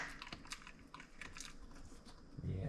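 A Blue Heeler crunches through a frozen raw meaty neck bone, giving quiet, irregular cracks and chewing clicks close by in a calm room.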